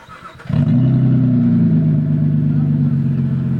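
A modified Saturn Aura XR with its 3.6 engine and exhaust lights blips into a big, loud rev that then settles into a steady, rattly drone, up close, after a brief moment of quieter idle.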